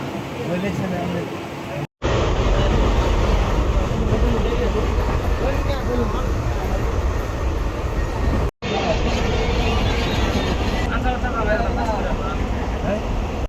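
A second-class passenger train on the Pattambi to Kozhikode line pulls into Tirur railway station. A loud, continuous rumble of the carriage carries over murmuring voices, broken by two brief cuts.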